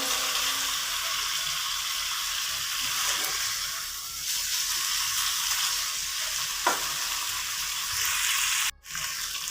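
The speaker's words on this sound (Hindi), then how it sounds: "अभी 3 से 4 मिनट तक हम इसको भून लेंगे।" Chicken for restaurant-style chicken karahi fries in oil in a karahi, giving a constant close sizzle and hiss with occasional stirring scrapes and a sharp knock near the end.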